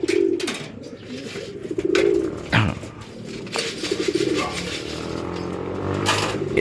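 Racing pigeons coo in repeated soft, throaty bursts while being fed and watered, close by, with shuffling and clatter in between and no talk over them.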